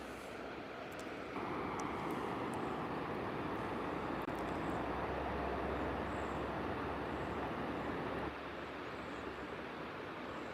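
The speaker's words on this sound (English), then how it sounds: "I was right. I hear a train" A broad, steady rumble of heavy machinery builds and holds, loud and continuous, like a train rolling close by with no voices.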